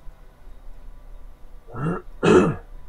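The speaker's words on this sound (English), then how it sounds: "I cannot clear my throat" A man clears his throat twice in quick succession, a short rough rasp followed by a louder, harsher one, close and alone against a quiet background.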